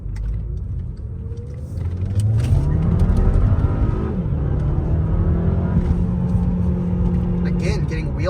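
A Volkswagen car pulling away hard with wheel spin, the engine rumbling and then rising into a sustained loud rev, while someone talks over it from inside the car.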